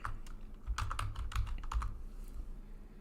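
Typing on a computer keyboard, a quick burst of close, crisp key clicks in an irregular cluster, then tapering off into quiet room tone, no talk.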